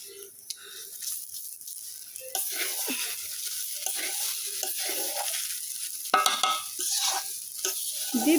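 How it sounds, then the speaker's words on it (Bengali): Rice being stirred in a pot while cooking biryani, a continuous scraping, rustling and sizzling with uneven stirring strokes, close and fairly loud, no talking. "নাড়তে হবে তাড়াতাড়ি, নইলে নিচে হলে চাল পুড়িয়ে ধরবে"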